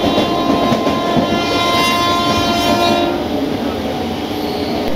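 A Howrah–Digha local train running, loud steady rumble and rattle of the carriages from inside, with a drawn-out horn tone in the first part.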